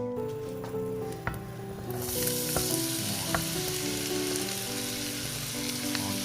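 Onions fry in butter in a pan, giving a steady close sizzle with scattered crackles and the occasional scrape of stirring. No voices are heard.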